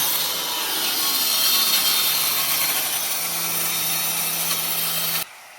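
An angle grinder cutting through a borewell pipe, a loud continuous high-pitched grinding whine that holds steady for about five seconds close by, then stops abruptly.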